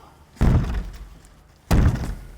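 Police bang on a door during a drugs raid: two heavy, loud slamming impacts about a second and a half apart, close and booming, with a low rumble between them and no talk.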